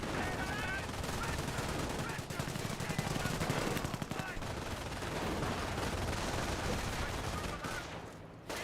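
Gunfire rakes an infantry section in the World War II strategy game Company of Heroes 1: dense, continuous bursts of rifle and machine-gun fire overlapping with battle noise, loud and unbroken for the whole stretch.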